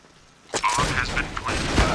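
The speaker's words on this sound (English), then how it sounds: "I'm planting the bomb." Mechanical clicking and ratcheting of a bomb being planted in Counter-Strike: Global Offensive, starting abruptly after a quiet moment and running as a steady close metallic clatter.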